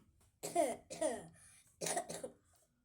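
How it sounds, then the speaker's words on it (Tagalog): Two quick bursts of coughing up close, each a pair of harsh, raspy coughs separated by a short pause, in an otherwise quiet room. "Grabing ubo, ah."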